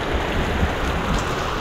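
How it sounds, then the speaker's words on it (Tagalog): Heavy rain pours steadily outdoors beside a farm pond, a dense, loud, continuous hiss of drops with no break across the moment. "Bigla-bigla na lang lumakas ang ulan."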